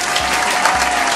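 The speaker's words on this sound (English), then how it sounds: "round of applause." Steady applause from a concert audience, dense and sustained without a break, as continuous clapping fills the whole moment.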